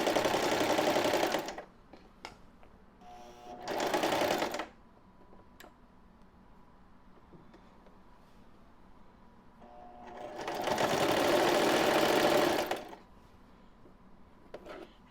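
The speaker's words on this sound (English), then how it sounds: "keep shifting your fabric up as you sew so it won't be dragging and pulling on your seam" A sewing machine stitches a half-inch fabric seam with backtacking, running in three bursts: a short one at the start, a brief one, then a longer steady run, separated by quiet pauses with faint handling clicks.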